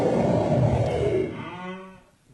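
Comic cow moo sound effect used as a time's-up signal at a comedy show, a single drawn-out low lowing call that fades over about two seconds, loud and alone.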